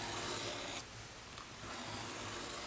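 Blade cutting through cardstock and a plastic bag on a cutting mat: a steady close rasping scrape that pauses briefly midway, then resumes at similar level.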